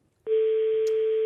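On a French radio show, an outgoing phone call's ringback plays as a single steady electronic tone that starts abruptly after a moment of silence and holds at an even level.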